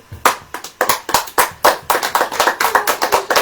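An audience at a Hindi-language church sermon claps in a series of sharp, rhythmic bursts, about a dozen close, loud claps that quicken toward the end.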